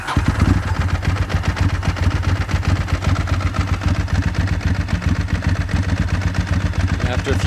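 A Ducati 996 motorcycle engine idles after starting, a loud close, lumpy rapid thumping pulse that holds steady throughout, with no talk over it.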